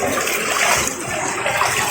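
Someone wades through deep floodwater, feet churning and splashing in a continuous, close, loud sloshing rush with no speech.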